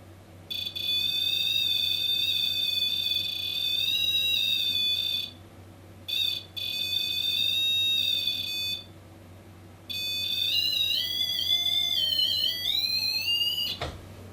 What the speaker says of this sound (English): It is the ParaREM, which is essentially a slimmer, lighter REM pod.